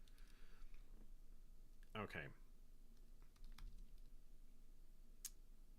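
A new computer keyboard clicks faintly in sparse, scattered keystrokes, with one short burst of rapid typing, while someone briefly speaks a word.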